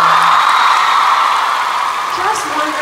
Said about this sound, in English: Please give him a big round of applause once again.